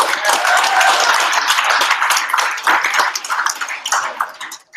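A hackathon audience applauds a team with steady, dense clapping that fills the room, then thins out and tapers toward the end.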